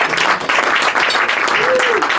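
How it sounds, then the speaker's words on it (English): Dense applause from a crowd of diners at a House of Lords conference dinner, steady, loud clapping filling the whole room without a break. "A round of applause for him"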